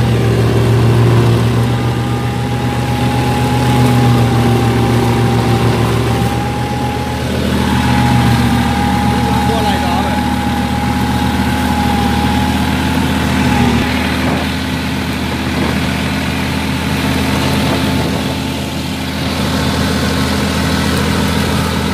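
A Massey Ferguson 9500 tractor running with a Lemken mulcher hums with a loud, steady, close engine drone and mechanical whine, holding a constant level for over twenty seconds with no one talking.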